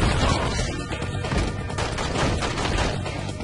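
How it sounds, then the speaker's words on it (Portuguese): Gunfire in The Matrix: Path of Neo on PS2: a dense, continuous burst of rapid shots and crashing impacts, moderately loud with no clear voice. "É só meter bala."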